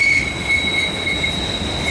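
Norfolk Southern 392, a mixed freight with loaded auto racks, rolls steadily past up close, its railcars rumbling low while a sustained high wheel squeal rings over the top; no talk.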